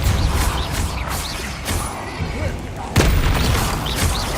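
Explosive spell blasts such as Confringo in the fantasy game Hogwarts Legacy, loud booming impacts and crackling bursts in rapid succession over continuous combat noise, with a voice speaking throughout.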